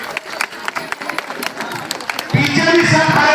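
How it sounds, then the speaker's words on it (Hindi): An audience applauding to welcome the chief guest at a public event: scattered claps build into fuller crowd applause near the end, under a voice addressing the crowd. "जरा महिलाएं सब खड़ी होकर एक बार तालियां बजा के अभिनंदन करें"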